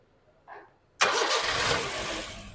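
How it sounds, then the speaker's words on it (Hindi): A car engine starts with a brief cranking whir, catches after a short pause and settles into a steady, loud idle close by. "तो सबसे पहले हम आपको इंजन स्टार्ट करके दिखाते हैं। इंजन स्टार्ट करिएगा।"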